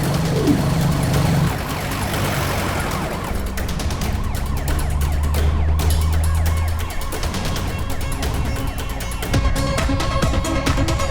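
An ambulance siren wails in a dramatic film scene, its rising and falling tones cycling loudly over traffic and engine rumble for several seconds before the pitch shifts near the end.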